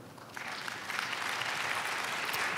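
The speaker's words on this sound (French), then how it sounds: "Sous vos applaudissements" Audience applause rises quickly and holds steady, a dense wash of clapping from many hands.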